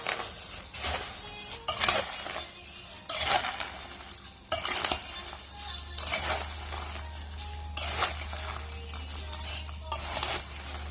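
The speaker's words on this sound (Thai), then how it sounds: "นี่เราก็จะ คนนะครับ" Crispy chicken chili paste is stirred in a pan while garlic fries, giving a continuous sizzle broken by repeated scraping and clinking strokes of the utensil, close and fairly loud.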